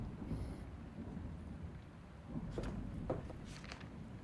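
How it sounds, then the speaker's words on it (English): Rain and thunder rumble through a storm in a video game: a low, steady rolling drone with scattered crackles and a swelling rumble, heard alone at moderate level. "That storm is gnarly."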